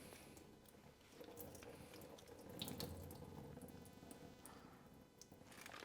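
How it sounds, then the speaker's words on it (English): Water drained from a pack of soft tofu into a sink, making a faint, continuous trickling splash with a few soft drips; no talking. "And let's go ahead and drain our tofu."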